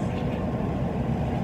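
Steady low-pitched hum and rumble inside a moving Japanese Shinkansen bullet train, with voices talking under the cabin noise.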